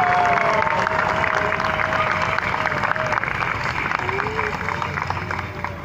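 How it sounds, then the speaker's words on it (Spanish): A large crowd of pilgrims at a World Youth Day gathering gives sustained, dense applause with cheering mixed in. The sound stays loud and steady throughout, with scattered shouts rising above it. "Otro aplauso."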